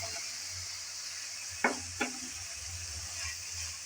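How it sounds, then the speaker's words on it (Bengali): Green banana pieces being sautéed in spiced oil, with a constant hiss of frying and two sharp spoon knocks against the pan near the middle, close up and without speech. "কলাগুলো দিয়ে ভালোভাবে কষিয়ে নিতে হবে।"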